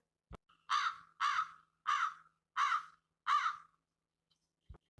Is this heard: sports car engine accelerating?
no